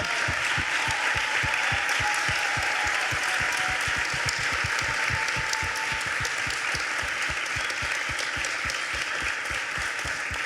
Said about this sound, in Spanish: hay que recibir con un gran aplauso a toda la gente que hace Nodal día por día